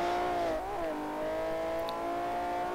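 A BMW M car's 3.5 litre six-cylinder engine, rated at 277 horsepower, holds a steady high rev in the Forza 4 racing game, a continuous harmonic drone with a brief dip in pitch partway through and no talk.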